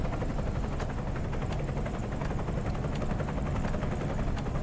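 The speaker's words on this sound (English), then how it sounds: "Get out here and get a look at that helicopter." A helicopter hovers overhead in the American Truck Simulator video game, its rotor producing a continuous loud, rapid thumping chop alongside a steady engine roar with no voices.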